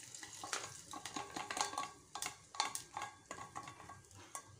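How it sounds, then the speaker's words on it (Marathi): Hot tadka tempering poured into a chutney in a home kitchen, a run of crackling sizzles and clinks of the pan rising and falling in short bursts, close and moderately loud, with no talk. "हा तडका आपण टाकूया आता आपल्या चटणीमध्ये।"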